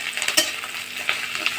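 Kohlrabi leaves and coriander leaves frying together in a pan, heard as a close, bright sizzle broken by quick scraping stir strokes and a few light clinks.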